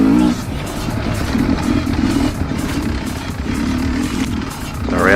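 An enduro motorcycle rides a hard enduro trail, its engine buzzing and revving continuously at close range with clattering over rough ground, and a voice talks over it at the start and end.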